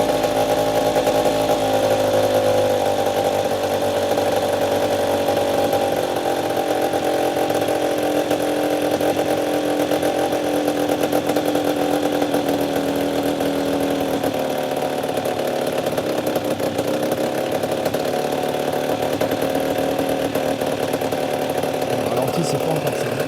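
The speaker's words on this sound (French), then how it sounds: "Essayer de baisser un peu le ralenti." A 2008 MBK X-Limit enduro motorcycle engine idles steadily during restoration, a continuous buzzy two-stroke drone with a slight drop in pitch midway as the idle is lowered, close and loud throughout.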